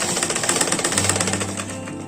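A sewing machine stitches lace onto a blouse, its needle hammering out a rapid, steady run of close, loud pulses with no pause.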